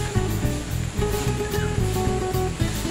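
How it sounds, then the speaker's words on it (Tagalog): Waterfall at Villa Escudero in the Philippines roars in a steady, loud, broadband rush close by, with a faint tonal hum running through it. "Labasan, waterfalls entrance."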